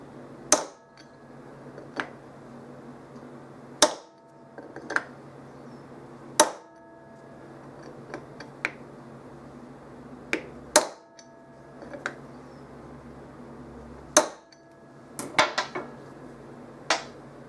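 Metal is struck with a hammer in sharp, ringing blows at irregular intervals, a few quick double hits among them, close by in a quiet workshop while making a clutch basket puller.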